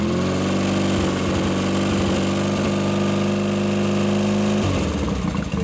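A Triumph Bonneville T140 motorcycle engine runs steadily and loud, close up, with a dense harmonic drone and rhythmic firing that holds its pitch before dropping back near the end.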